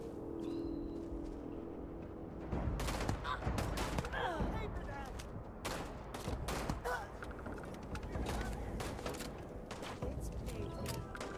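Loud, heavy shots from the Grizzly revolver in Starfield crack out one after another amid chaotic combat noise, with talking over the action.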